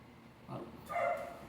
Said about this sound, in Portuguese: Ô cachorro.